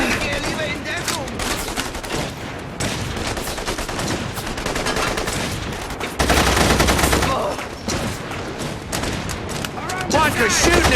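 Dense, continuous gunfire fills the scene in The Saboteur video game: rapid bursts and volleys over a battle din, with shouting voices mixed in.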